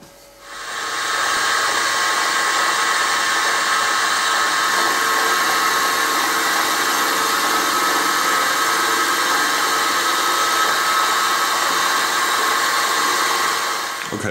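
A 6 mm end mill cuts 2 mm deep into metal: after a short quiet start the milling machine spins up into a loud, steady, high-pitched whine and hiss that holds evenly for about thirteen seconds, then eases at the very end.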